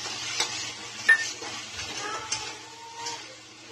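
A spoon stirs mashed tomato with red chilli, coriander and turmeric powder masala in a pot for Garhwali potato curry, giving quiet, intermittent scrapes and light clinks against the metal over a soft sizzle.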